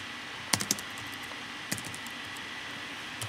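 Keys tapped on a computer keyboard while HTML code is entered, a short burst of three or four clicks followed by a single later click over a steady faint hiss.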